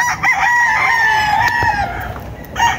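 A rooster crows loudly and close by in one long drawn-out call, followed by a shorter cluck near the end.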